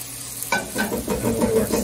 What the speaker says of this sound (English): we'll do our second batch of chopped hot dogs in the frying pan